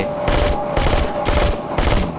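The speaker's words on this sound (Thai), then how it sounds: "ปืนรัวมาตอริต้าเอ็นเก้ารัวแบบ" Loud bursts of rapid automatic gunfire in the video game Into the Dead 2, four sustained volleys separated by brief pauses.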